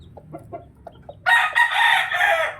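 Chickens and a rooster sunning outside their coop in San Miguel, Bulacan: a few soft clucks, then a loud, close rooster crow rings out for over a second.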